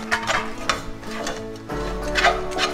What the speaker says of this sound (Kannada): ಇದನ್ನ ಫ್ರೈ ಮಾಡೋಣ